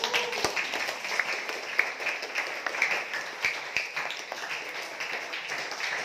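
A church congregation claps together in a steady, moderately loud patter that continues evenly for about six seconds, with no talking over it.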